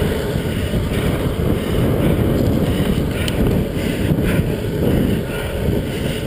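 Loud, roaring headwind buffets a GoPro microphone while riding a Cannondale F4000sl bicycle downhill at around 65 km/h, a continuous rushing gust noise with no voices.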